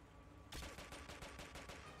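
Gunfire in the video game Quantum of Solace: a loud burst of rapid shots breaks out after a brief quiet start, firing rhythmically and near for the rest of the moment.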